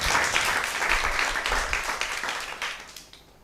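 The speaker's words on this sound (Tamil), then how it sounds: "கைத்தட்டி கர்த்தரை மகிமைப்படுத்த மாட்டீங்களா?" A church congregation claps together during a Tamil sermon, a loud, fast flurry of many hands that stays strong for a few seconds and then gradually thins and fades toward the end.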